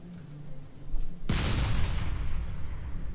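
A grenade explodes in the artillery game Shellshock Live: after a quiet lead-in, one sudden loud blast bursts out, then a long rumbling decay that trails off slowly.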